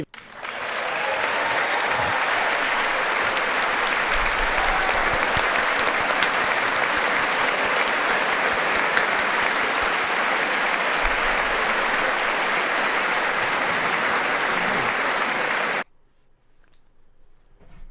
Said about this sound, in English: I'm applauding them